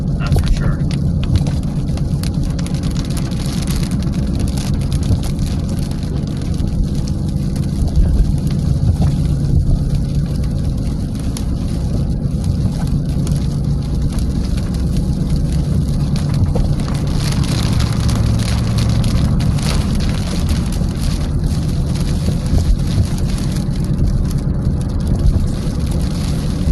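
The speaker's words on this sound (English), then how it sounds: "Lots of very big raindrops," Big raindrops drumming on a car driving through severe Wisconsin storms, a dense, steady patter over road and engine rumble throughout.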